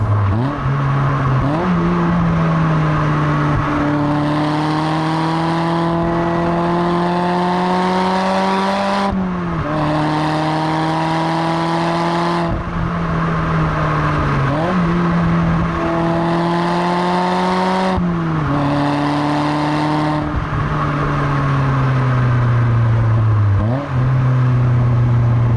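A BBR-tuned turbocharged Mazda MX-5 on the road, its engine note climbing steadily through the gears in repeated rising pulls broken by shifts, loud and close throughout with no talking.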